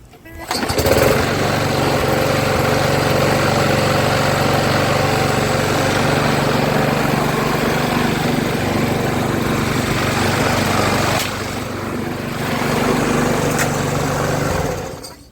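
A lawn mower engine starts up and runs loudly and steadily nearby, dipping briefly in power before revving back up.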